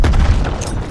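A grenade blast in Call of Duty Black Ops Cold War multiplayer: one loud, close boom with a rumbling tail that fills the whole moment.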